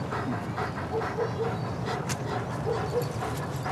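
A dog whimpers and yips in short, repeated high whines over a busy, noisy street background with steady rumble.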